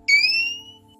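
A single electronic buzzer tone from a motor vehicle's ignition switch being turned on sounds once, steady and fairly loud, then fades out after about a second over a low background hum.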